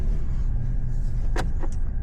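Mercedes GLE 53 AMG cruising in comfort mode at night, a steady low road and cabin rumble throughout with a couple of brief faint clicks near the end.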